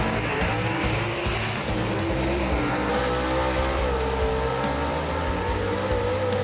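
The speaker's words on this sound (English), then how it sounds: "He's going to be racing Leslie Horn in the Chick Magnet. The 55 Chevy right there in the mortgage options lane." A 1955 Chevy gasser roars down a drag strip in a heads-up race, a loud, sustained engine drone with a steady rising pitch, close and dominating throughout, with no talk.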